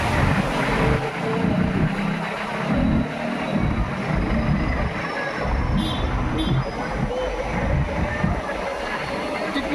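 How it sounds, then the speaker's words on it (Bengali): Steady wind rushes and buffets the microphone on a boat in Kerala, with a broad continuous roar and faint water noise underneath. "হাওয়া লাগছে গো।"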